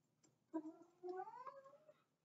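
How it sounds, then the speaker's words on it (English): A house cat hollers in the background with two drawn-out, wavering meows, one short and one longer, faint and alone in an otherwise quiet room. "That is my cat hollering in the background."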